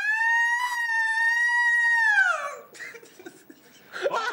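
A voice imitates the wailing Sapucaí carnival siren, a loud steady harmonic tone held for about two seconds before gliding down, followed by quieter laughter and chatter.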